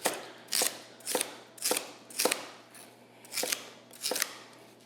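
Knife slicing through large pieces of food on a cutting board, in preparation for a high-powered blender; seven evenly spaced crisp cutting strokes, close and fairly quiet, with no talking.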